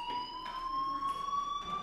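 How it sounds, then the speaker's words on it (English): A fire alarm rings steadily in the video game Life is Strange, its electronic tone held continuously at a constant pitch and loud throughout, with no talk over it. "do you hear that fire alarm? That means you should be outside."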